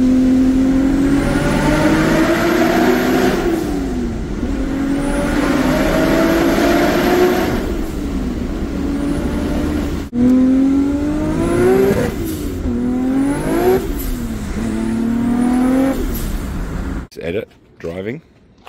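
A Bayside Blue Nissan Skyline R34 GT-R V-Spec with a 2.8 litre stroker engine is driven hard, its engine rising through repeated revving gear pulls with shift breaks, loud and close, with talk over it.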